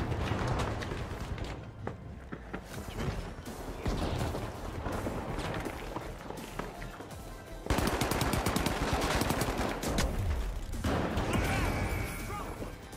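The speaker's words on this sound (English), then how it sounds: "One shotgun hit and one grenade, okay." Rapid gunfire bursts and blasts from shotgun shots and a grenade explosion in the video game The Finals, loud and dense throughout with a sharp surge partway through, over a busy game mix.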